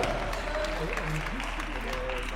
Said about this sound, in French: On peut l'applaudir en tribune.